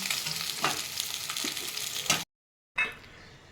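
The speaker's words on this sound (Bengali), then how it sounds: "আমার মাছগুলো ভাজা হয়ে গেছে, দেখো লাল লাল করে। এবার আমি মাছগুলোকে তুলে নিচ্ছি।" Rohu fish pieces fry in hot oil with a steady close sizzle and a few stirring scrapes; the sizzle cuts out briefly, then returns with a sharp burst.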